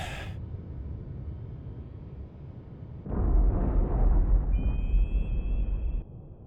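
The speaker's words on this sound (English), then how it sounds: "I guess we'll watch the torpedo blow up" A torpedo detonates in the submarine warfare game Cold Waters, in an engagement between the USS Scamp and a Soviet Kirov cruiser. A deep, loud rumbling boom swells midway and rolls on for about three seconds over a steady low drone, then fades.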